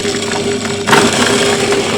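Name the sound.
chopper machine running, grinding cassava stems for chicken feed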